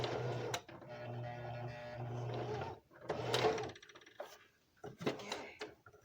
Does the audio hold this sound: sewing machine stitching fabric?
yes